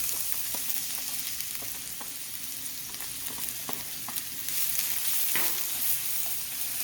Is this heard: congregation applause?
no